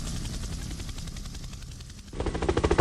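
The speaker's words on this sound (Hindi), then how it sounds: "हेलीकॉप्टर उड़ते हुए पाकिस्तान की ओर जाने लगा।" A cartoon helicopter in flight gives a steady rotor thrum that swells louder and more pulsing toward the end, alone with no voices.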